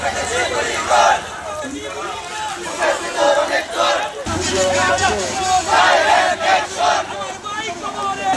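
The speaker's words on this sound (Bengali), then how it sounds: "ওইখানে পুরো মিছিল দিয়ে আসছে" A street procession crowd chanting and shouting in unison, with many voices close by rising and falling in loud rhythmic waves over constant crowd babble.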